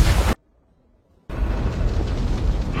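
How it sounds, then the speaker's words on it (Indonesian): A warship blows up in a war film: a loud roaring blast, then a sudden cut to near silence, followed by a sustained low rumbling explosion that continues to the end. "dalam 30 detik kapal itu meledak"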